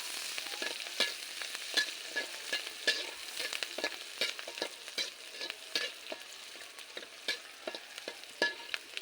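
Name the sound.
frying onions and chilies in a pan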